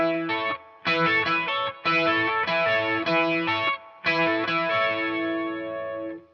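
Electric guitar played high up the neck in two-note double stops through a chorus effect, bright shimmering chords in short rhythmic bursts with brief gaps, loud and alone.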